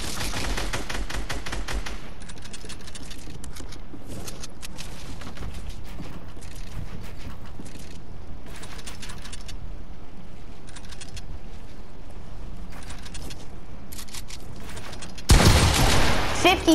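Video game gunfire crackles in repeated rapid bursts of automatic shots with short gaps between them, and a louder, denser volley comes at the end.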